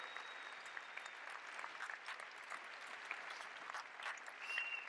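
Sustained applause and cheering from an audience at a large business meeting, a continuous wash of clapping at moderate distance, fairly even in loudness with a slight swell near the end.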